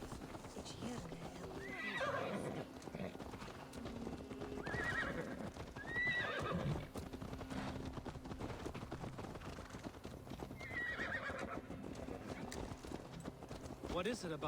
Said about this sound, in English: I'm going to get my horse